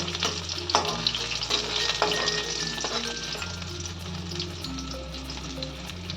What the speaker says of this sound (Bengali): এবার আমি আর এক পিট ভেজে নিচ্ছি